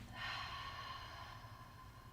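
One long breath is exhaled through the mouth during a yoga session, a soft breathy rush that starts abruptly, stays close and fades over about two seconds.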